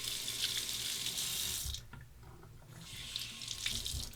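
Tap water runs steadily into a sink with a bright hiss, briefly dulling in the middle as a safety razor is rinsed under the stream, then splashing freely again.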